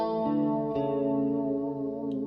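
The guitar part from a track plays as sustained, shimmering chordal tones heavy with chorus and echo effects, with a note change partway through and no talking.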